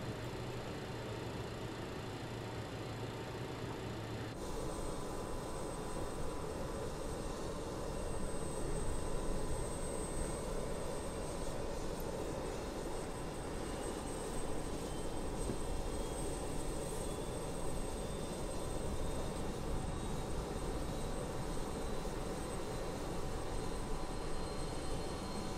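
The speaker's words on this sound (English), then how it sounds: "Starter master on, engine 4," Simulated BAe 146 jet engine spooling up during start in Microsoft Flight Simulator, a steady rising turbine whine and roar with a high tone, loud and continuous throughout with no talk.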